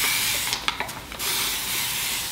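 A spray bottle mists water onto a section of hair during a Dyson Airwrap styling session, a few short hissing spritzes close by, set against a steady background hiss.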